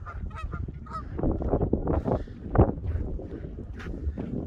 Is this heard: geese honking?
yes